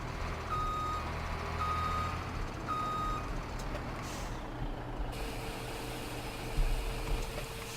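Repeated reversing beeps from a truck at a feed mixer in Farming Simulator 17, steady evenly spaced tones over a low engine rumble with an air-brake hiss partway through, no talk.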